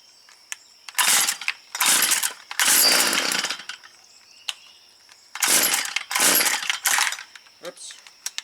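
A Stihl FS45 string trimmer with a new carburetor, fresh gas and the choke set, starting up and revving in several loud, short bursts separated by brief pauses.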